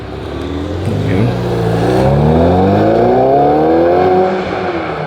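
A Ferrari sports car engine drives close by, its loud exhaust note climbing steadily in pitch over several seconds as it accelerates, with no talk over it.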